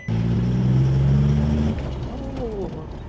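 A car engine is revved hard once, a loud rising roar held for over a second, then drops back to a rough idle while someone talks nearby; the engine is puffing white smoke.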